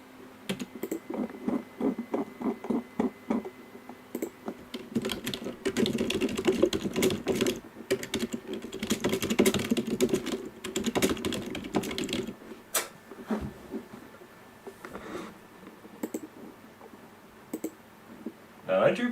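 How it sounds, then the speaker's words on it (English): Rapid keyboard typing, clicking in bursts and runs, close up, with a voice talking over parts of it. "And I do be typing."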